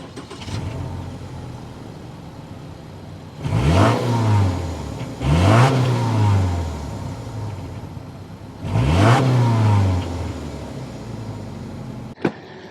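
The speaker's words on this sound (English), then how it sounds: "start up this boxer engine so you can hear that exhaust note" A 2023 Subaru Forester Wilderness flat-four boxer engine idles with a low exhaust rumble, then is blipped three times in sharp revving bursts, ending with a brief click.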